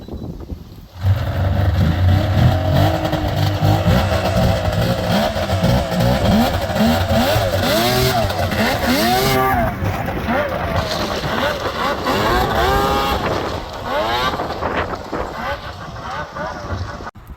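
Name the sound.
Yamaha vehicle engine revving as it drives out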